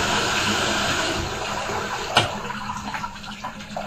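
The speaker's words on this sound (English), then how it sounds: "take your shower head. And just give it a good rinsing." A shower head sprays and rinses a patch of grass in a bathtub, a steady close rush of running water with a gradual fade and a few small knocks toward the end.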